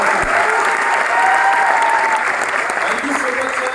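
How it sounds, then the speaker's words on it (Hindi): A crowd at a business gathering gives loud, sustained applause, a steady wash of clapping with voices faintly mingled in. "जोरदार तालियां होनी चाहिए"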